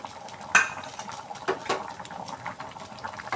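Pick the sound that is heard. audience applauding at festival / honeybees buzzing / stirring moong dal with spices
stirring moong dal with spices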